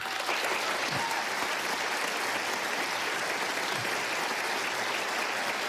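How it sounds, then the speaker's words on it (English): A television studio audience breaks into dense, continuous applause, a thick even wash of many hands clapping at once for nearly six seconds with no voices standing out. "you guys don't know how much you're applauding that"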